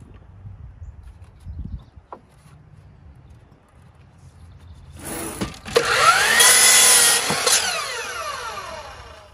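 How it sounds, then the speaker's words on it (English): A 12-inch Diablo saw blade cuts through fence wood: a quiet stretch with faint knocks, then a loud, close, whining cut bursts in around the middle and roars for several seconds before easing slightly. "since I just made the cut with the wood, cut through it like butter with this. I'm using a Diablo blade, 12 inch Diablo blade"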